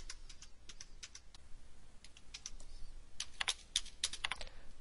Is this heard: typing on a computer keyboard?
yes